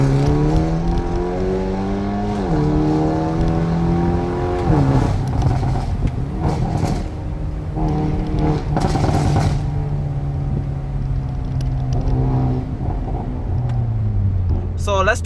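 A Stage 2 tuned Hyundai i30N making about 320 horsepower, with a bigger custom air intake, drives and accelerates through the gears. Its engine drones loudly from inside the cabin, the pitch climbing and dropping at each shift, and someone talks over it.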